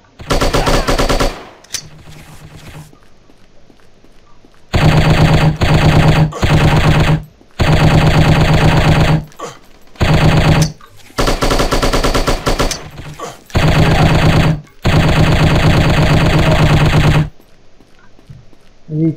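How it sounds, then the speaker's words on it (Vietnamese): Automatic gunfire in the shooting game Striker comes in long loud bursts separated by short gaps, about eight sustained volleys close up, with quieter stretches between them and no talk. "Có tiếng súng, hai thằng"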